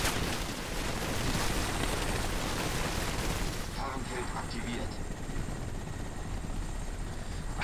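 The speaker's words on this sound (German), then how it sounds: "Alter, ist der aggressiv, der Heli." In the video game Crysis, an aggressive enemy helicopter roars loudly and continuously with a dense rotor and engine wash. Bursts of gunfire and battle noise are mixed in, and the sound eases slightly partway through.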